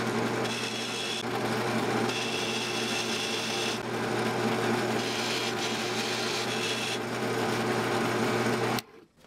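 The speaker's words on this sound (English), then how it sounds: "We're going to bevel out the edge of the fret." A file bevels the edges of frets on a DIY guitar neck, producing a continuous loud, close rasping scrape with steady back-and-forth strokes that stops abruptly at the end.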